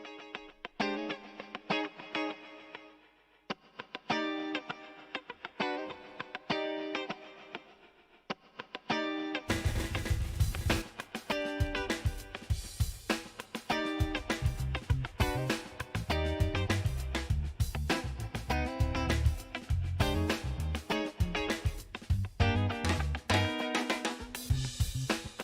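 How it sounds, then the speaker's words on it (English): Music processed through Timeless 3 delay and reverb on iOS: sparse plucked notes with echoing tails, then a denser, louder full-band section with heavy drums and distorted tones continuing to the end. "Let's give it a bit of kind of reverb."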